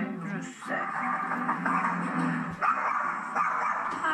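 A chihuahua barks and yips repeatedly at close range, sharp little bursts mixed with whimpering and a hint of growling, while people talk over and around it throughout.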